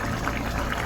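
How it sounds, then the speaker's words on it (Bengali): A gourd curry with rohu fish bubbles on a gas stove, giving a continuous, dense simmering hiss with soft popping, close and steady throughout. "এখন 10 মিনিট আমি ফুটিয়ে নিব তরকারিটাকে"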